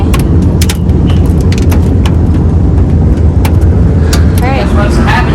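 A race car driving, dense continuous engine and road roar with sharp rattling clicks scattered on top, loud and close throughout, with a voice speaking over it.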